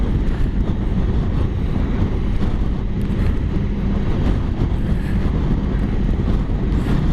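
Strong gusting wind roars loudly and continuously while riding a Honda ST1100 motorcycle, with heavy low buffeting and rumble.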